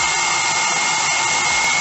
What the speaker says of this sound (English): So if I increase the temperature with the help of this dryer